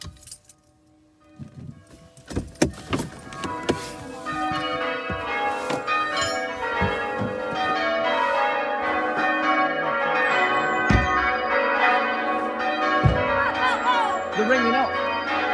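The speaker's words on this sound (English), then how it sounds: "They're ringing up." Church bells at St. John the Baptist church in Tideswell being rung up, strikes starting sparse and irregular then building into a dense, continuous overlapping peal that grows louder and fills the air.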